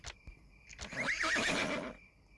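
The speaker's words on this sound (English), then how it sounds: "Yes, horse." A horse whinnies in one loud, wavering call lasting about a second, preceded by a couple of brief knocks, in an outdoor setting.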